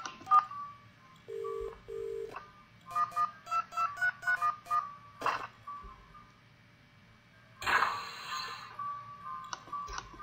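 Telephone keypad tones dial a code in the Gateway 2 video game: a string of eight or so short, evenly spaced beeps, clear and close, with a few clicks and a brief static burst afterward.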